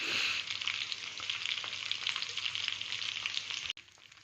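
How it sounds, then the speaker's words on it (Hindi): Chicken pakoras deep-frying in oil on a medium-low flame give off a steady, dense sizzle and crackle that carries on without a break and cuts off abruptly near the end. "अब हम इसको जो है वो मीडियम टू लो फ्लेम पे जो है 8 से 10 मिनट्स इसको पकाएंगे।"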